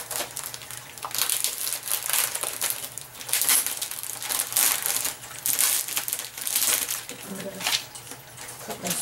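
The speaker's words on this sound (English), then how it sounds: "and folding paper." Sheets of paper being folded and crinkled during scrapbook crafting, giving repeated close, papery crunching and rustling strokes that continue steadily throughout, with faint speech-like sound underneath.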